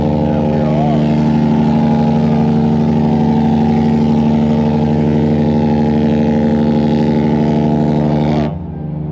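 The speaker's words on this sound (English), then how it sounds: "You can hear the engines rumbling." Deep, loud engine rumble aboard a large cruise ship, a steady low droning hum that holds even and then drops away abruptly near the end.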